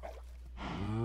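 A Minecraft cow lets out a single drawn-out moo that swells in loudness and sounds close, following a quiet moment of low background hum.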